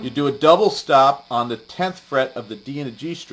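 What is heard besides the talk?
No distinct noise like a dog, phone or traffic.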